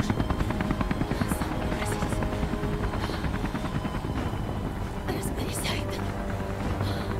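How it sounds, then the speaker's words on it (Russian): A helicopter in the video game Beyond Two Souls thrums with a steady rotor chop, running beneath game dialogue and other effects. "Хорошо, еще и вертолет."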